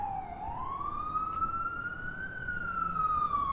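An ambulance siren wails steadily, its tone sliding slowly up and down as it passes at moderate distance, over low traffic rumble on a street in Red Hook, Brooklyn, New York City.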